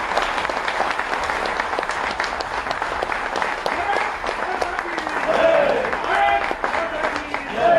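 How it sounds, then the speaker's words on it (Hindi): Loud, sustained applause from a seminar audience standing to greet a chief minister, dense clapping throughout with crowd voices mixed in and a swell near the end. "अपनी अपनी कुर्सी पर खड़े होकर जोरदार ताली बजाकर हम माननीय मुख्यमंत्री जी का अभिनंदन करें"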